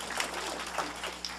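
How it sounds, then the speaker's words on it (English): Audience applause in a room at a talk or presentation, a steady spread of clapping hands at moderate, fairly distant level for over a second with no voice on top. "So round of applause"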